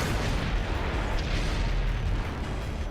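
A tank cannon shot rumbles in a tank video game match, a heavy, loud boom with a sustained low roar and rolling echo that fills the whole moment.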